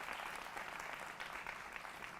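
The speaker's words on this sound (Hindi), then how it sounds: "जोरदार तालियों के साथ अभिनंदन करिए हमारे" A television studio audience claps to welcome young guests on a political debate show, a short burst of dense, steady applause from a crowd.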